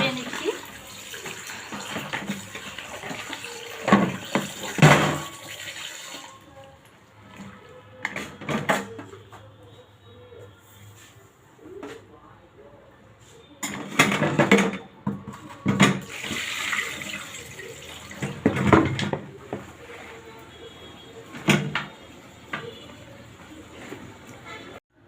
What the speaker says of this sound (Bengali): তো পাতাগুলো আমি এখন ধুয়ে নিচ্ছি